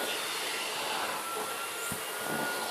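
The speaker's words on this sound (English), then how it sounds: "see, this is at 1/4 suction" Vacuum cleaner running at quarter suction while grooming a Maine Coon cat, a steady airy whoosh with slight changes in tone as the nozzle moves, close and alone.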